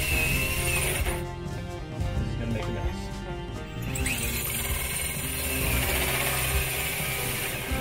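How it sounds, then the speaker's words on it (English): A drill with a large hole saw cuts steadily, a loud continuous grinding, rasping whir that shifts in tone partway through, close by and with no talk. "If you're using large hole saws, run them real fast at first until the hole saw just starts to bite"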